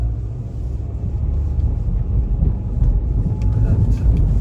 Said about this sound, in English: that car that just passed me on the right